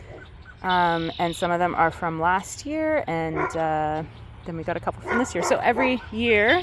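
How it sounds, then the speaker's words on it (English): Outdoors beside logs being inoculated with mushroom spores, a dog barks and yips in a close, loud run of repeated barks with a few whimpers, heard over a person talking steadily. "I apologize for my barky dog."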